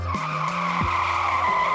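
A car swerves and leaves the road with tires skidding, producing loud squeals in short bursts over a steady engine hum, close and sharp.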